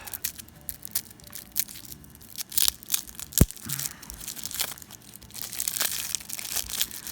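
Plastic wrapping on a new pack of game cards from a Harry Potter Miniatures Adventure Game box crinkles and tears close by, in irregular crackling bursts with one sharp snap, and no talking.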